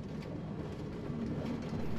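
A train rolling through a crowded multiplayer video game server gives a steady, continuous low rumble with no breaks. It sounds close and fairly even for the whole stretch, and no one speaks.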